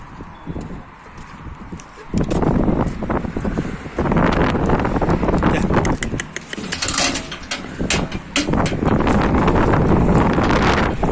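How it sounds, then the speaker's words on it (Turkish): Strong wind buffets the microphone in loud, roaring gusts that swell and fade, with rustling and animal hoof sounds mixed in. "rüzgara bak yağmur geliyor"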